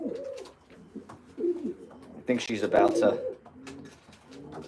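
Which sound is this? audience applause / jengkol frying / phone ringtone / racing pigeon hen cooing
racing pigeon hen cooing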